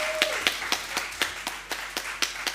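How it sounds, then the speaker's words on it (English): Small audience at a bioluminescence symposium giving a round of applause, sparse and fairly slow claps spaced out and moderately near, with a few scattered hands over a quiet room. "I'm just asking you again to give them a warm round of applause."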